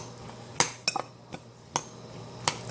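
A few separate light clinks and taps, near and unhurried, as salad is tossed and mixed in a bowl, with quiet gaps between the strikes.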